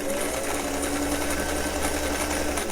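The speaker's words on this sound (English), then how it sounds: "and continue to sew" A sewing machine stitches a shirttail hem in a steady, fast, continuous mechanical whir, close and even from start to finish with no talking.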